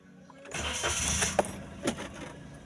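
A car engine cranks and catches after a spark plug replacement and throttle body cleaning, starting on one try and settling into a rough idle, close and fairly loud.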